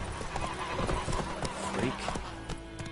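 Roach, Geralt's horse in The Witcher 3 game, galloping with steady hoofbeats and a brief whinny, layered under game music and a voice urging it on.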